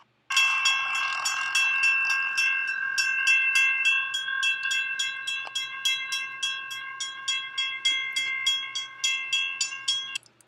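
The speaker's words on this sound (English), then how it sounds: "that's a pretty interesting, long shot of the Amtrak train there" An Amtrak passenger train rolls past with a sustained multi-tone horn chord at first, then rhythmic clickety-clack of wheels over rail joints continuing steadily until it fades.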